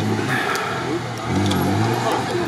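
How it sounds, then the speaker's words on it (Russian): Off-road car engine held at high revs during a rally raid, a loud continuous roar that swells and dips slightly, with voices speaking over it. "Рома пошел, там показывает максимальные обороты."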